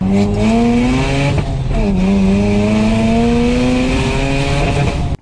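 A turbocharged Mazda RX-8 rotary with a Tomei full titanium muffler drives past loud and close, its engine note climbing through rising pitch sweeps with a brief shift dip, then cutting off abruptly.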